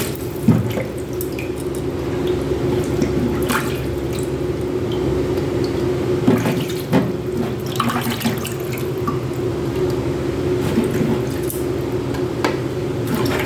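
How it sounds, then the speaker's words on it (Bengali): Tap water runs steadily into a sink while shol fish are washed by hand, with squishy handling and dripping sounds up close throughout. "মাছটা রান্না করার জন্য মাছগুলো ভালো করে ধুয়ে"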